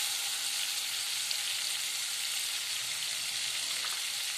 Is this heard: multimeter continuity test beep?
no